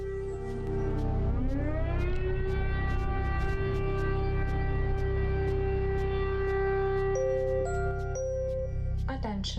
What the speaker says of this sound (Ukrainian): Зараз перша ночі, і знову лунає повітряна тривога.